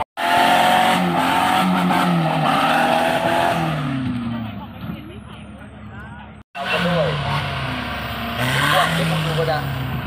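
A 4x4 off-road vehicle at an off-road event drives close by and shifts into second gear, its loud engine rising and dropping in pitch with a brief cut-out, while voices are heard nearby.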